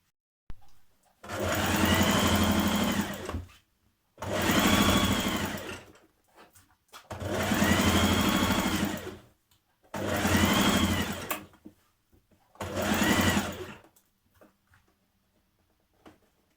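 A sewing machine runs a curved crotch seam on a playsuit made from a refashioned duvet cover. It whirs in five steady bursts of about two seconds each, with short quiet pauses between them.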